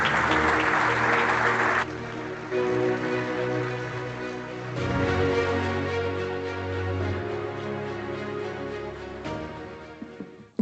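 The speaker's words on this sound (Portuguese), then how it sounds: "Tiago Carrão, um aplauso, por favor" An audience at a security conference in Tomar, Portugal, applauds for the mayor in a loud, sustained burst of many hands clapping, then settles into steady clapping that trails off near the end.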